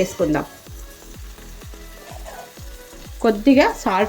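Gongura chicken frying in a pan with a little added oil, a soft sizzle under repeated rhythmic scraping stir strokes, with short squeaky scrapes near the start and the end.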